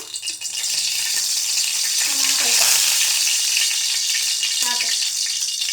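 Oil sizzles and crackles steadily in a hot pan, a continuous bright frying hiss with a few small stirring clinks, fairly close and without talk.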